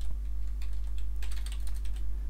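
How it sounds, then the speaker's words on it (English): Rapid bursts of keystrokes on a computer keyboard, close and crisp, with short pauses between runs and a steady low electrical hum underneath. "I'm just going to do that now by typing in include on the right line"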